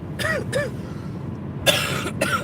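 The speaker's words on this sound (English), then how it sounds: "I'm so sorry for coughing on the live stream." Four short harsh coughs from a person sitting close by, arriving in two pairs with a pause between them, recorded inside a car during a drive.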